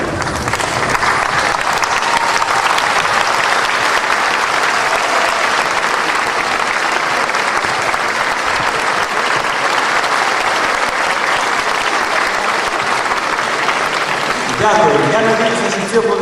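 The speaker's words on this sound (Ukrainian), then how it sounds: "Нашими аплодисментами." Graduates of a medical university give a long, steady round of applause at their graduation ceremony, dense and sustained throughout, with a voice starting over the clapping near the end.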